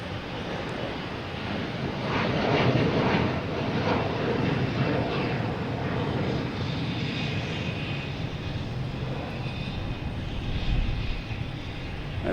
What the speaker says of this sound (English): Virgin Atlantic coming in from Heathrow